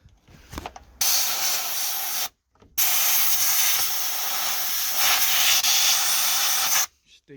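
Forceful hissing bursts of compressed air blown through a Land Rover Discovery 2 sunroof drain tube, two long blasts separated by a short pause, loud and close, with faint clicks before the first.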